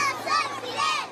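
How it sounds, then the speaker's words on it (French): A crowd in the streets of Santiago de Cuba chanting for Fidel Castro, many voices rising and falling in two swelling shouted phrases, loud and close, lasting just over a second. "Je suis Fidel, scande la foule."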